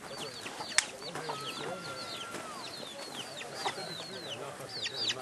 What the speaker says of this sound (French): Les petits poulets, les petits bébés poulets.